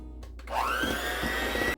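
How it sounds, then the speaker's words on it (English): An electric mixer whirring through cake batter for a peach upside-down cake starts up after a brief pause and runs steady and loud, with a tone that rises slightly as it gets up to speed. "Although you could definitely mix this by hand, I am going to use an electric mixer."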